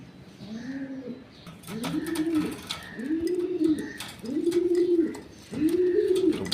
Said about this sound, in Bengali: একদম নতুন কবুতর